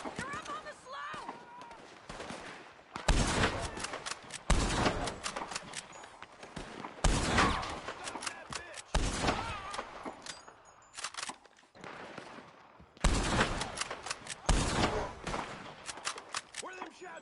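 Repeated loud bursts of gunfire ring out in a Red Dead Redemption 2 shootout on a slope, sharp shots arriving in clusters with short lulls, while voices speak over the firing.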